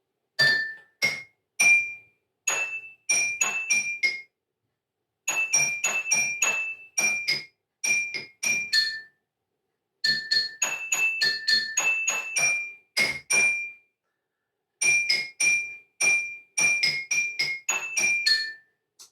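Bright tones struck on drinking glasses tuned to notes, in quick runs forming a repeating four-note melody with short pauses between phrases, clear and ringing.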